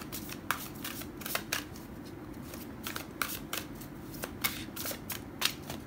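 Tarot cards shuffled by hand in a steady series of crisp riffling bursts, close up and fairly quiet, with a faint background hum.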